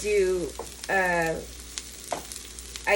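Onions fry in butter in a pan with a steady, soft sizzle, broken by brief tonal vocal sounds.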